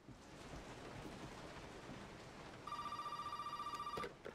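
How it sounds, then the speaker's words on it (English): A telephone rings in the horror game Resident Evil 7, a repeated electronic bell pulsing rapidly for over a second above a faint, steady rain-like background hiss. "The telephone's ringing now."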